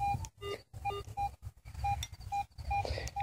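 A metal detector gives a repeated electronic tone over a buried target that reads a hard 78, short clean beeps pulsing in an irregular rhythm against faint outdoor background noise.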